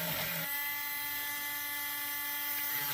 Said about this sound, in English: the trick is just bury half of the burr, half of your number 8 round burr